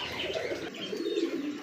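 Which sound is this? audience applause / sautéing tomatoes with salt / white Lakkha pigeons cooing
white Lakkha pigeons cooing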